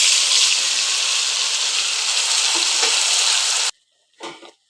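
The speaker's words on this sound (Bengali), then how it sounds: "এবার যেটা করব সেটা হচ্ছে দিয়ে দেবো বাটা মশলাটা" Ground spice paste hits a hot pan for spicy boiled-egg kosha, setting off a loud, steady broadband sizzle that runs for several seconds, then cuts off abruptly, followed by a brief softer hiss.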